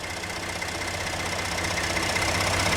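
A Ford Expedition XLT with a 3.5-liter V6 idles up close in its open engine bay, a steady low mechanical hum with a faint ticking texture that holds constant and swells slightly louder toward the end.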